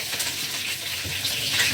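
Fish frying in a pan gives off a dense, continuous sizzle and crackle at close range, steady throughout with no voices.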